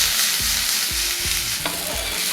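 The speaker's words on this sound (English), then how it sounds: "I'm going to toss in our onion" Half an onion fries in a pan, giving a dense, continuous close sizzle with soft, low knocks as it is tossed around. No one speaks.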